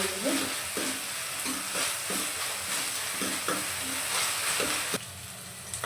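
Onions for a lentil rasam fry in a pan, a steady loud sizzle broken by regular spoon scrapes every second or so, close up with no voices.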